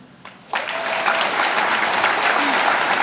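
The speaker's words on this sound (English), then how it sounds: "let's give one final cheer for Wyndcroft" A school graduation audience breaks into sustained applause and cheering after a short pause, a broad wash of clapping that swells quickly and holds steady.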